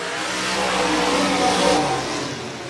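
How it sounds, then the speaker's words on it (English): A short-track race car at 105 Speedway, its engine running rough in a Short Track Super Series race, gives a loud, continuous droning roar that swells slightly and then eases as it slows. "that engine does not sound like it is working properly"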